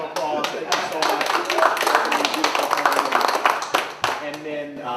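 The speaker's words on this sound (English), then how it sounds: "Give you a round of applause." An audience claps steadily through a campaign event for a Virginia lieutenant governor candidate, with a voice speaking over the dense, even patter of hands.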